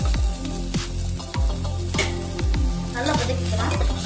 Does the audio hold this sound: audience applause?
no